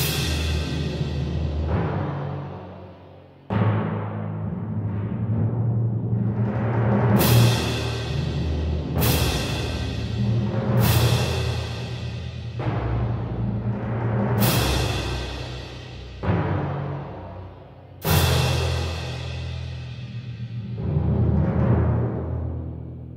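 An orchestral arrangement built in Cubase with Spitfire Symphonic Woodwinds plays for over twenty seconds: sustained woodwind lines over a low bed, with bright accented swells and strikes recurring every few seconds at a steady, moderate level.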